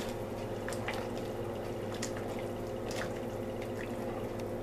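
Fresh okra pods dropping into a pot of simmering garbanzo bean soup, giving a few soft, wet plops and drips over a steady low bubbling hum, close by and fairly quiet.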